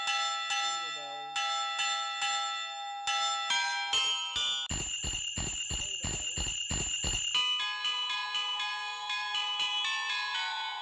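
A bright electronic doorbell chime plays Jingle Bells, with rapid repeated ringing notes in the middle, clear and close with no talking.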